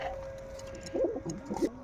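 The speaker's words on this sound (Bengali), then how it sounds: "এই একটা পায়রা জোড়া দিয়েছিলাম কিছুদিন আগে, সপ্তাহখানেক আগে" A recently paired couple of domestic pigeons coo softly in a few short, low, throaty bursts near the end, over a faint steady hum and quiet room background.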